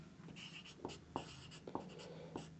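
Chalk or marker writing on a board during a physics lecture on lenses, scratchy strokes with several distinct taps over a steady room hum, no speech.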